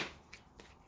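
A deck of tarot cards is shuffled once more at close range, a soft riffling burst at the start followed by a couple of faint papery flicks in an otherwise quiet room.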